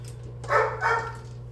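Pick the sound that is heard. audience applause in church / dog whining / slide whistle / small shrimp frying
dog whining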